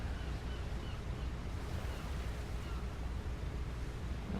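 Seaplane resting on water in War Thunder, a steady broadband wash of water and engine rumble that holds loud and even throughout, with no speech over it.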